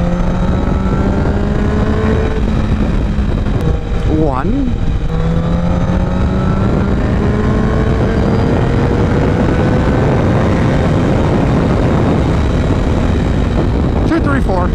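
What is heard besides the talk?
car passing four trucks on the road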